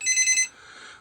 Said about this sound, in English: oh excuse me, that's the phone.